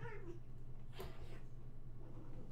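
Young cats fight indoors, with short yowling cries and a sharp squeal over a constant low hum.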